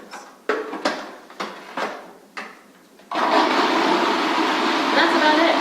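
A few brief knocks and clatters, then a food processor starts up blending hummus with a loud, steady whir that runs to the end.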